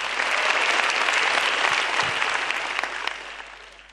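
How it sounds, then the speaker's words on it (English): A stand-up comedy audience gives loud, dense applause that fills the room and then gradually tapers off toward the end. "I want you guys to give a big applause for Kompas for this amazing competition"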